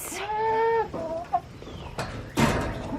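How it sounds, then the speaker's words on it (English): A farm chicken clucks and squawks close by in a few short bursts, loud and alone, with small noises between calls. "And there's a chicken."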